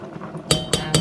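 A utensil stirring flour into a dairy-free soy butter roux strikes the side of a cooking pot three times in quick, evenly spaced metallic clinks after a quiet moment.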